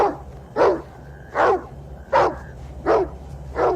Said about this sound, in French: Pour communiquer avec nous, il s'est mis à aboyer.